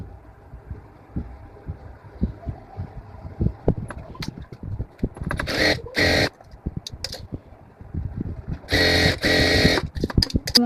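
A sewing machine stitching a half-inch petticoat seam runs in two short whirring bursts, separated by quieter handling clicks and taps of the fabric being guided.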